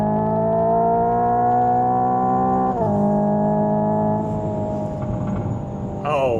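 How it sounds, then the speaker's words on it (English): The simulated engine note of a Hyundai Ioniq 5 N hums loud and close as a layered, gently rising tone, dropping sharply at each downshift, with a quick rising blip near the end. "Oh, wow, even a little bit of grumble. Downshifting blips, that's awesome."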